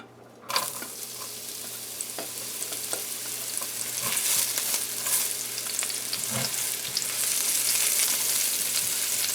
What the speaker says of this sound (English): So our oil is hot now guys, and we're going to add our onions again first